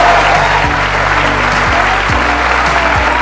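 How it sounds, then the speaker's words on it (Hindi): A studio audience on the Sandeep Maheshwari Show gives continuous, loud applause close by to welcome guest Pushkar Raj Thakur onto the stage. "बजाओ ताली"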